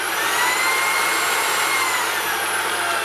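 A Levoit VortexIQ 40 cordless stick vacuum runs at boosted power with a loud, steady high-pitched whine and rushing airflow, close and alone without any talk.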